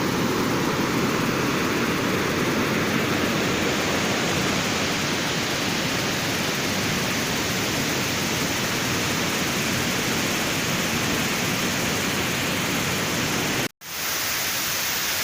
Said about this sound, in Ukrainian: Ось звідси власне вода тече.